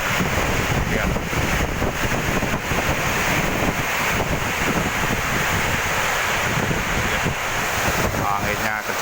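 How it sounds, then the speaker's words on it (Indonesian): Heavy rain with strong wind over a housing estate in East Bekasi, Indonesia, a dense continuous roar with gusty buffeting against the microphone throughout. "Anginnya kencang banget, hujan angin."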